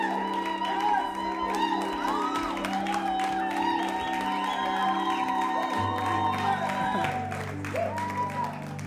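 Church audience at a youth ministry gathering applauding and calling out together, a steady wash of clapping and cheering voices with a few whoops, sustained throughout at moderate level.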